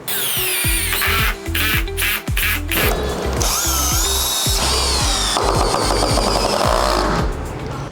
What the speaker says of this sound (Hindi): जैसे कि मैं यहाँ पर स्क्रू लगा रहा हूँ